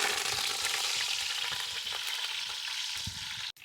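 Chopped shallots and curry leaves fry in hot oil with mustard seeds, a steady close sizzle with faint stirring clicks throughout, cutting off abruptly near the end.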